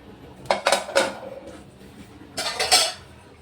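A pressure cooker lid clanks open after sambar is cooked. A cluster of sharp metallic knocks comes first, then a second rattling set a moment later, close by with no voices.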